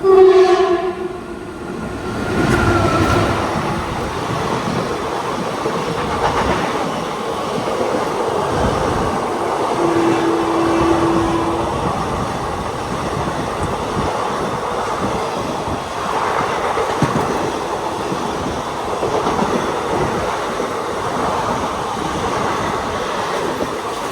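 A special train from Bikaner to Sainagar Shirdi rumbles past near Bhopal, with a steady loud roll of wheels on rails, rhythmic clatter and a brief horn at the start.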